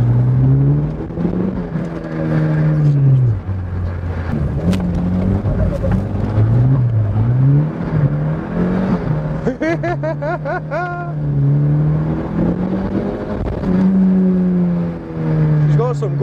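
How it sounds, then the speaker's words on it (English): Volvo drift car driven hard at full throttle, its engine droning and rising and falling in pitch as it revs, heard from inside the car with someone talking over it, a sharp rev burst in the middle. "Next, I'm going to do some hard driving. Again, just going to do full throttle"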